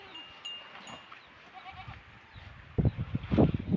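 Goats bleat on a small farm that also raises cows and chickens, first faintly in the distance, then in louder overlapping calls close by toward the end.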